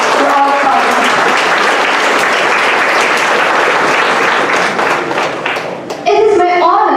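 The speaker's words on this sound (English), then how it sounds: "A big round of applause for all the winners and great appreciation for all the participants" Loud, sustained audience applause for award winners at an aerospace engineering conference prize ceremony, a thick wash of clapping that dips briefly before a voice speaks over the tail end.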